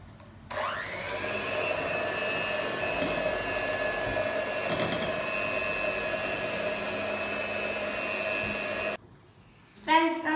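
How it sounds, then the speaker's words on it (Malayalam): Electric beater whirring steadily in chocolate cake batter, a close, constant motor hum that starts abruptly, runs for about eight seconds, then cuts off, followed by a brief rattle. "നമുക്കൊന്ന് ബീറ്റ് ചെയ്യാം."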